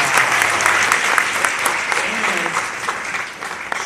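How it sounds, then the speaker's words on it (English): An audience gives a warm round of applause for Miss Martinez, steady, close and loud clapping from a crowd that fades a little at the end, with faint voices underneath. "I'd like for you to give her a round of applause for that"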